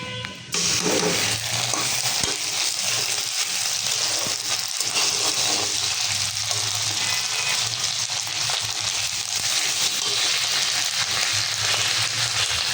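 Eggs fry in hot oil with ginger and garlic, producing a loud, dense, continuous sizzle that starts abruptly and holds steady throughout with faint crackle beneath.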